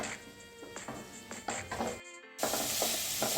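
Red pumpkin pieces sauté in a pan with a steady, close sizzle, broken by repeated scraping stirs of a spatula; near the end there is a brief gap, then a louder, fuller sizzle.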